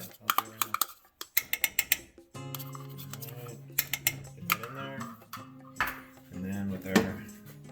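Sour cream stirred into soup in a pot for a budget dinner of soup and biscuits: a run of quick utensil clinks and scrapes against the pot, then more sporadic clatter while someone talks.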